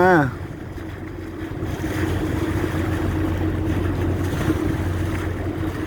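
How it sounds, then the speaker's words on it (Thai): A boat runs across the Andaman Sea with a steady, close engine drone under wind buffeting the microphone, holding constant after a brief louder start. "เรือวิ่งแล้ว"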